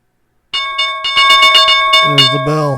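A bell rings loudly and close after a moment of silence, with rapid repeated metallic strikes and a sustained ringing tone, and a voice joins near the end.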